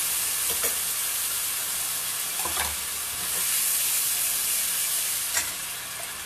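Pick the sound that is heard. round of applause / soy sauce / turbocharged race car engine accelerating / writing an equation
soy sauce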